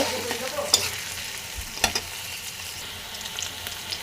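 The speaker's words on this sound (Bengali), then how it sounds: "তেলের ভিতরে আমি পেঁয়াজ ও কাঁচা ঝাল কুচি কিন্তু দিয়ে দিয়েছি এবার এটাকে আমি হালকা নাড়াচাড়া করে নেব" Chopped onion and green chili fry in hot oil while being stirred, a continuous sizzle broken by a few sharp utensil scrapes and knocks against the pan.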